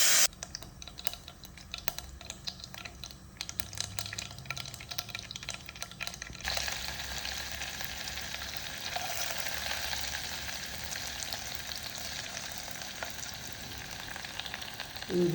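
Sunflower oil frying for rava upma, a soft continuous sizzle with light clicking and stirring that grows brighter and fuller midway, no talk.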